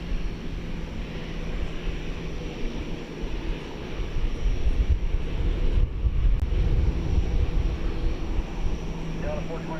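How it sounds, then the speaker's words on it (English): An American Airlines Airbus A321 jet airliner rumbles at DFW Airport at night, a steady low engine roar with wind buffeting, swelling slightly louder toward the middle and staying distant and continuous. "American flight 1809 is going to Seattle. It is an Airbus A321."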